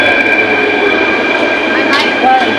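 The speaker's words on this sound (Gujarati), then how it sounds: "આવી ગઈ મેટ્રો" A metro train pulls into a busy station, its steady mechanical hum and high whine filling the platform, with a brief squeal near the end and crowd noise around.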